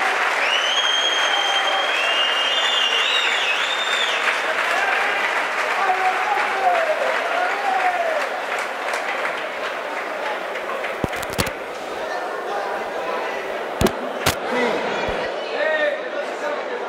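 A crowd applauds and cheers after a boxing victory, dense clapping sustained throughout with shouts and whistles, plus a few sharp loud bangs near the end.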